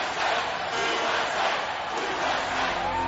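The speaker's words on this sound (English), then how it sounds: "Near midnight outside the White House, excited crowds gathered to greet the news." An excited crowd gathered near midnight outside the White House: a continuous roar of many voices cheering and shouting, steady and fairly loud throughout.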